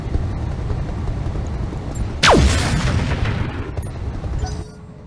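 A single heavy mech weapon shot in Roguetech/Battletech, a sharp booming blast with a descending whoosh trailing off, rising out of a low rumbling battlefield background.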